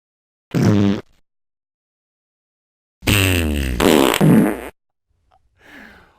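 Two loud, close farts, a brief one followed after a pause by a longer, drawn-out rasping one, then a faint rustle.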